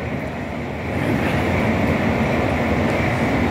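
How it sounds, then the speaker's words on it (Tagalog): A train at Wu Kai Sha station in Hong Kong rumbles with a steady, broad roar that swells after the first second and then holds loud and close, with no voices over it. "Napakahaba ng train dito."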